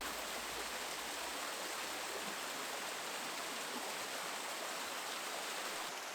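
Waterfall in Padley Gorge pouring steadily, a constant broadband hiss and rush of falling water, even and unbroken throughout with no voices.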